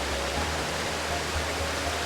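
Water Tank Hollow Falls in Pine Creek Valley roars in a steady, dense rush of falling water, close and continuous with no other sounds.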